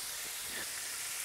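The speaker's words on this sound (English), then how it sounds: "You can start to smell the aroma of this rib frying" Ribs fry in hot oil in a Gullah home kitchen, giving a soft, steady sizzling hiss throughout. The frying sits fairly quiet, with no one speaking over it.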